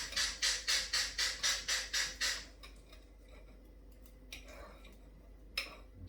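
A knife saws through a cooked steak on a board: about nine quick, evenly spaced rasping strokes, close and fairly loud. After them comes a quiet stretch with faint kitchen noise.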